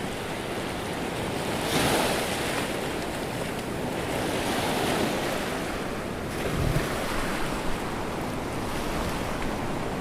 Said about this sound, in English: Definitely have big waves today.